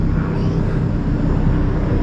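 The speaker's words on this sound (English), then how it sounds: "there is a helicopter flying right there" A helicopter flies over São Paulo as a steady, dense, low engine rumble with no pauses. It is heard alone, with no talking.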